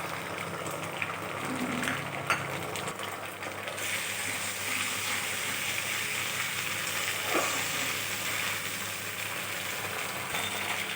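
Dried red chili, cumin and ginger paste fry with onions in hot oil for a shrimp and bean-seed dal, giving a steady close sizzle throughout with a few faint knocks.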